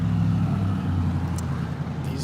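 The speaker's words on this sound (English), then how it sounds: "These two cars just pulled at the same time as each other." Cars on a road roll past with a steady low engine and tire drone, close and continuous, with faint brief higher noises near the end.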